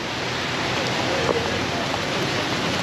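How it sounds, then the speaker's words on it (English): Rain falls at a gas station, a steady broadband hiss of drops, close and even throughout, with no talk. "I'm out here working in the rain right now"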